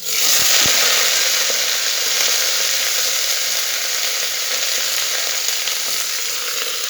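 Malabar spinach with green chillies hitting a spoonful of hot oil: a loud, continuous close sizzle that stays strong and even after a couple of brief knocks at the start.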